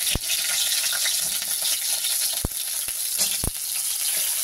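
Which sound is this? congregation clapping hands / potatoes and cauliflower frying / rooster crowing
potatoes and cauliflower frying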